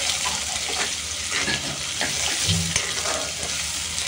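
Ground spice paste sizzles in hot oil for a spicy crab gravy, a continuous loud frying hiss broken by scraping stirs of a spoon against the pan.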